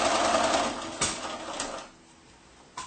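A sewing machine stitches a back stitch on a reversible A-line dress, whirring steadily close by, pausing briefly with a click, then running softer before stopping.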